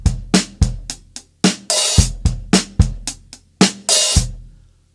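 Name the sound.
drum kit bars played with open hi-hat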